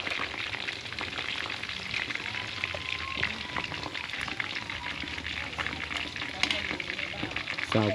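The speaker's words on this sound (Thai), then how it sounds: "สาวผู้ไทยกำลังทอดตีน" Pork trotters frying in a pan of hot oil, a steady dense sizzle and crackle close by with scattered pops, continuing throughout without letup.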